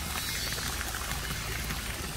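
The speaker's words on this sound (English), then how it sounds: "the water is coming out." A steady, rushing gush of water spills out continuously from a boat's bilge pump, loud and close, with no pauses or voices.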